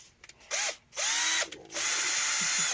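Power drill whines in three bursts, the last one long and steady, spinning a Suzuki FZ50 moped's oil pump close by with quiet gaps between runs.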